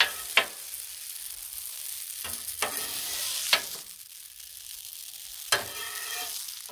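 Shrimp scampi sizzles on a hot Blackstone griddle while it is mixed in the pan, a soft hiss broken by a few sharp scrape-and-clack strokes at irregular intervals, with no voices.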